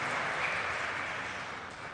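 Soft, distant applause from a church congregation during a Sunday Mass for the Feast of the Exaltation of the Holy Cross, a steady hiss of many hands that fades slightly toward the end.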